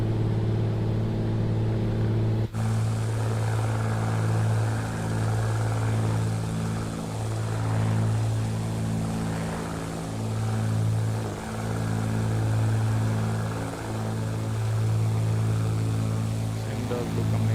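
A twin-engine propeller aircraft climbs in Microsoft Flight Simulator 2024 with a steady, droning engine hum. The pitch shifts as throttle and prop RPM are eased back, and it carries on without interruption.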